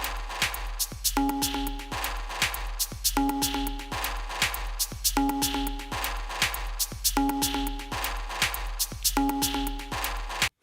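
Quiet electronic techno beat from a Patterning 2 drum kit with a steady kick drum pulse, ticking hats and a repeating stabbed synth chord pattern looping over and over.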